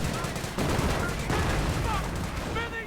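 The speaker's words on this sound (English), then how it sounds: "be careful when you're standing out in front of Bren guns" Bren gun machine-gun fire in a real-time strategy game match, rapid bursts of rattling shots mixed with other battle noise, under an announcer's talk.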